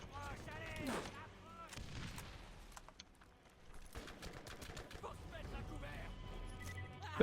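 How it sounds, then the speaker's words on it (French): Grenade blasts and rapid gunfire from the Borderlands video game come as a dense, busy mix of shots and bursts, with characters talking over the action. "Me lance une grenade!"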